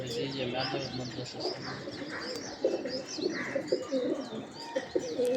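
Pigeons coo in low, repeated murmurs while small birds chirp and tweet overhead, with faint voices in the background.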